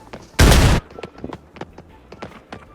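A loud, sharp burst of gunfire rings out in Arena Breakout, followed by scattered quieter shots and clicks in the background.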